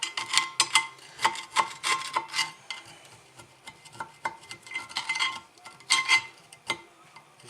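A cylinder head being scraped to remove heavy old oil deposits, giving quiet, close, irregular scratching strokes in short rhythmic clusters, with no talking.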